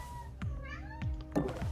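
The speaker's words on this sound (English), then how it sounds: "The cat is just going nuts." A cat meows in a video game, two or three short rising cries spaced across under electronic game music and soft effects, fairly close and clear.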